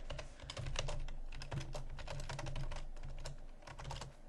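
Someone types a file name on a computer keyboard, a steady run of close, quiet key clicks with brief pauses, and no talk.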